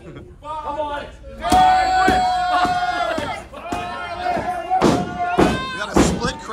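A crowd of voices shouting and chanting, divided in its cheers, with loud thumps and slams mixed in among the yelling, close and energetic.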